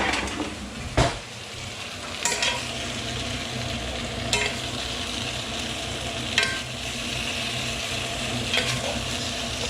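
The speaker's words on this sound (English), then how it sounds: "we use this same pan with some of the meat juices to actually cook the veggies" Vegetables fry in a pan with leftover beef juices for a Catalan-style stew, giving a steady sizzle, while a spoon scrapes and knocks against the pan every couple of seconds.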